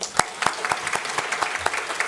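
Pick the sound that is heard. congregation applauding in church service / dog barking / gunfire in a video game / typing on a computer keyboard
congregation applauding in church service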